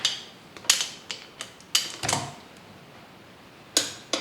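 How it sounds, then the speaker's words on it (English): Torque wrench clicking while tightening engine bolts on a Harley-Davidson M8 107 being built to 124, with several sharp separate clicks spaced irregularly and close by, and no talk. "You want the torque wrench to click in mid-pull, not at the end of the pull."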